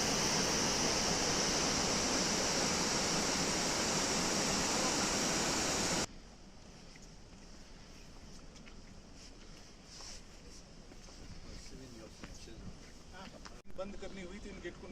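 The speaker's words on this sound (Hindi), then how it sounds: "Spillway gate." Water rushes through a spillway gate at the NHPC Nimoo-Basgo hydroelectric station in Alchi. A loud, steady roar fills the first six seconds, then gives way to a much quieter ambience where people talk.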